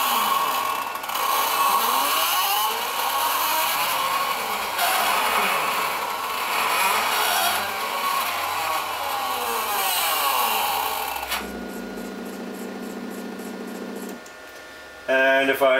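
A Roland CAMM-3 CNC milling machine cuts a circle at shallow depth, its stepper motors whining in rising and falling sweeps as the axes move, steady and close, before shifting to buzzy stepped tones near the end.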